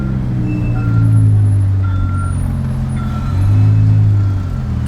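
BMW M5 with a V10 engine on a cold start, a loud, steady low rumble that swells twice as the revs rise and settle, heard alone at close range.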